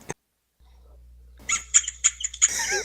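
A person mimics a pet rat in a tabletop fantasy game session, giving a quick run of high, thin squeaks in a short burst, close and fairly loud after a brief quiet pause.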